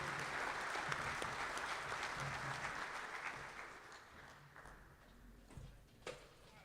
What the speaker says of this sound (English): You can give Tom a round of applause.